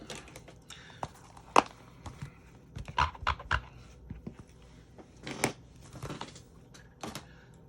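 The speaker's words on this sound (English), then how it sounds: "So I have this little baby guillotine cutter." Small guillotine paper cutter trimming card stock: a series of sharp clacks and snips at uneven intervals, close and fairly crisp, with brief rustles of the card between cuts and no talking.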